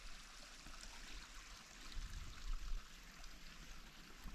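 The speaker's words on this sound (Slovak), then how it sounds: "Ja som sa dostal pri takýto potôčik," A small stream trickles through a birch forest with a soft, steady, faint burble of running water and no voices.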